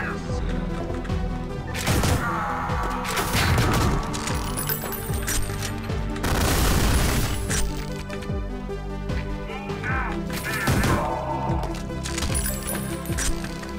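Pistol shots ring out in the retro shooter Ion Fury, several sharp cracks at irregular intervals over a loud game soundtrack and ambient effects, with no speech.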